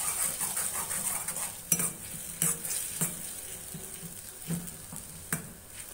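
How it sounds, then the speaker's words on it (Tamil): Curry leaves crackle and sizzle in hot oil for a goat lung gravy, a steady hiss broken by several sharp spatters and the clink of a spoon stirring against the pan, with no talking. "ஒரு கொத்து கருவேப்பிலை வச்சுருக்கேன், அதையும் போட்டுக்கலாம்."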